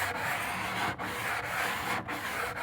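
Close, steady rasping of sandpaper rubbed back and forth over a wooden door, a continuous scratchy hiss broken by two brief pauses where the stroke changes. No voices.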